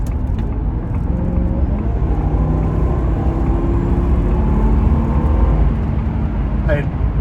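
A 2000 Jaguar XJR accelerates hard in sport mode, its engine a loud, deep, continuous drone heard from inside the car, with rising tones as it climbs through the gears and a voice talking over it.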